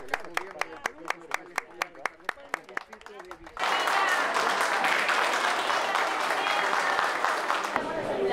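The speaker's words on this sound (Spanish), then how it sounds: "aplauso, por favor." An audience at a school inauguration in Paita, Peru, first claps in a steady, evenly spaced rhythm, then breaks into loud, dense, sustained applause that fills the hall for several seconds.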